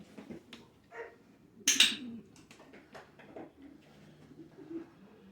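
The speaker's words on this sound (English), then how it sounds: "that constant sound there, that's my pigeons" Pigeons coo from a loft just behind a wall, a soft, continuous low murmuring with a few louder bursts and wing-like rustles, moderately close and without speech.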